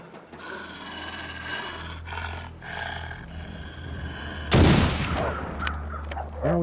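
A rifle shot at a moose in the video game The Long Dark, a single sharp loud crack that rings out after several seconds of low wind-like rumble, followed by a fading echo.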